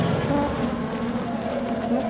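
Mysterious insect-like buzzing in a cartoon about a swamp creature, a loud continuous drone with a wavering pitch, heard alone and close.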